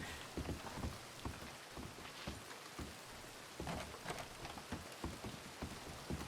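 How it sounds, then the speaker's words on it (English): Heavy rain pours in the Red Dead Redemption 2 game world, a steady hissing patter with scattered louder drops and splashes, soft and continuous with no voices. "Oh, it's pissing rain now."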